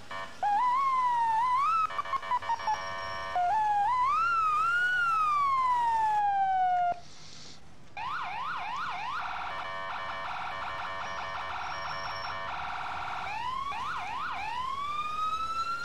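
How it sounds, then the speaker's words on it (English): Emergency vehicle sirens from the EmergeNYC video game run through several patterns in turn: a rising and falling wail, short rapid yelps and a fast warbling tone. They are loud and clean, with no talking. "What siren do we have?"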